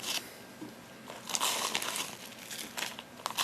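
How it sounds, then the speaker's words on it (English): A resealable plastic bag crinkles and rustles up close, with dense continuous crackling and a few sharper bursts throughout, no speech. "I highly recommend these resealable plastic bags because you can just keep reusing them and reusing them."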